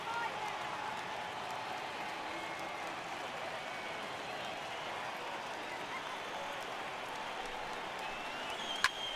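A baseball stadium crowd of over 39,000 roars steadily in MLB The Show, a broad, even wash of cheering that holds throughout, with a brief sharp crack near the end.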